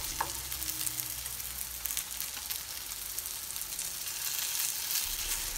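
Rockfish fish cakes about a quarter inch thick fry in a pan, giving a continuous, even, loud close sizzle with a faint thump near the start and another near the end.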